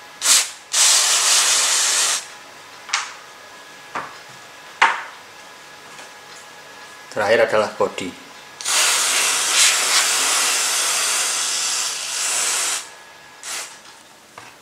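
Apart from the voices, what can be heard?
spraying cleaner on Optimus Polaris multifuel stove parts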